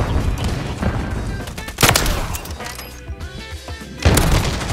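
Gunfire in a shooter video game: dense, loud volleys of shots with sharp bursts near the start, middle and end, overlapping echoing booms throughout, no voices.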